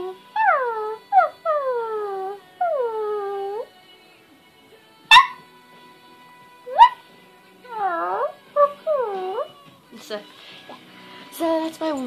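A human voice imitates a wolf, giving a series of high, falling whimpers and whines in short bursts separated by pauses, with a few sharp clicks and thumps in between, close and alone.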